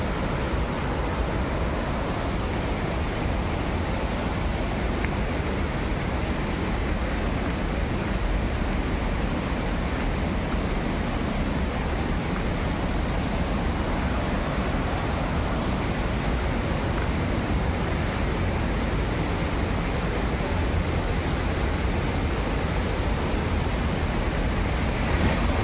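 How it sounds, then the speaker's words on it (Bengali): A river current rushes below the Ambika Mata temple, making a steady, loud, unbroken roar of flowing water that holds at the same level throughout, with no talking. "ও উপরের জলটা একদম শান্ত, আর ওই নিচে নামছে স্রোত।"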